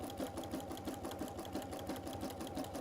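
A sewing machine stitches over elastic on a fabric tablet cover, a fast, steady mechanical chatter of evenly repeating needle strokes, close and clear with no voices.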